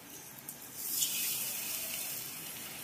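Water poured into a pan of paneer masala gravy, a steady rushing hiss that swells after the first second and holds, with a soft sizzle beneath and no talk.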